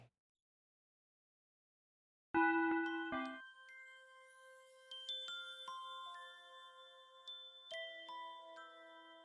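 A school bell chime rings out after about two seconds of silence, its bright ding-dong tones layering and sustaining as the melody plays on, fairly loud and alone.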